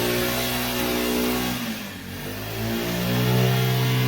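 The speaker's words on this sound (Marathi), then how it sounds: "पेट्रोलवर गाडी झाली चालू" A petrol auto rickshaw engine runs steadily after starting, its mid-pitched drone rising and falling with brief revving, loud and close throughout with no talk.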